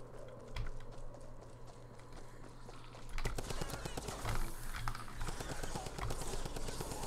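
Typewriter submachine gun fire in Fortnite comes as rapid rattling bursts, with sparse shots early and dense fast volleys in the second half, over a low steady game hum.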